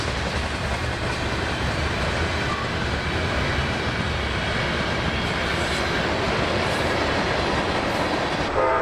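A long freight train rumbles steadily past close by in Folkston, a continuous loud roar of wheels and cars with faint clacking, holding level throughout.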